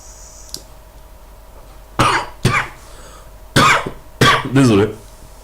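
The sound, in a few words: person coughing after vaping e-liquid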